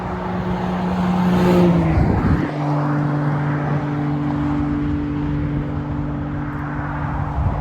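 Sports cars including a Toyota Supra pass along a motorway, a steady engine drone swelling and sweeping by in a loud rush near two seconds, then settling into a continuous hum of traffic.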